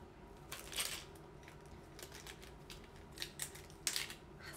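Scissors being handled indoors, a few faint metallic clicks and snips scattered irregularly over quiet room background, with no voices.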